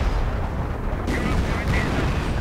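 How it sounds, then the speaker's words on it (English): Booming artillery fire in a wartime strategy game, howitzer and mortar rounds landing on an anti-aircraft flak crew, heard as continuous dense rumbling bursts with two sharper impacts partway through, alongside a talking voice. "he's just sending in all the artillery he has on it"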